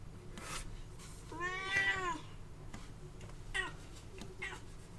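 A single drawn-out cat meow, fairly faint, over quiet background noise with a few soft clicks and rustles.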